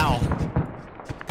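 Rocket airburst explosions in the military shooter Arma 3 during a raid on Tanoa, heard as a rumbling run of booms and thumps that recur at irregular intervals and end in a sharper blast, with voices over the battle.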